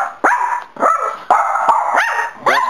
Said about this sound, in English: Rascal, what are you barking at?